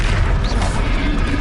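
A Confringo blasting spell explodes in a Harry Potter video game, a loud, heavy, rumbling boom that fills the short moment up close.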